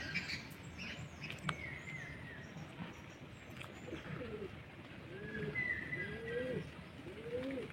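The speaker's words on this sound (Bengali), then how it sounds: "এই আসছে দেখুন 5টি পায়রা।" Several pigeons coo in a slow, repeated rolling rhythm near a house just after heavy rain, the calls moderately close and clear over a damp outdoor background with faint patter.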